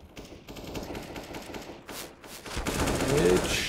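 Rapid AK rifle bursts in the video game CS:GO during a pro match, close automatic gunfire rising in intensity under a commentator's voice.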